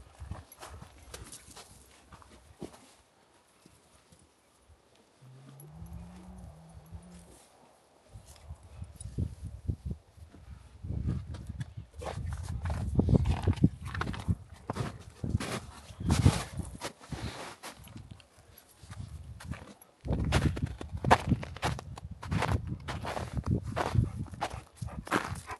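A small horse's hooves clip-clop in a steady walking rhythm, fairly close and continuous, on a horseback ride, with a brief faint tonal sound early on and no talk.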